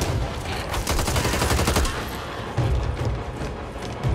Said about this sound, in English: 7 shots trying to kill 1 zombie.